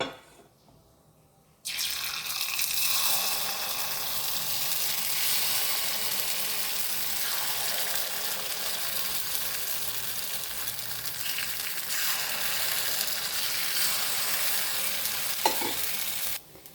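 Coconut oil poured into an appam pan of white jackfruit karayappam batter hisses into a loud, steady sizzle after a brief quiet start, frying continuously close by with no talking.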